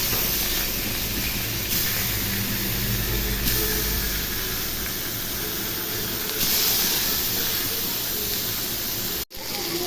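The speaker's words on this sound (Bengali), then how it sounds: "তেল গরম হয়ে গেছে, এখন মাছগুলো ভেজে নিব।" Silver carp fish pieces frying in hot oil give a continuous, loud hissing sizzle that swells and settles in waves, cutting off abruptly near the end.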